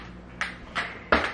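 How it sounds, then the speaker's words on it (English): Squeaks from an iWalk hands-free crutch worn by an amputee walking a dog, three short bright chirps spaced about a third of a second apart, fairly close and alone. "that is the sound of my lovely iWalk"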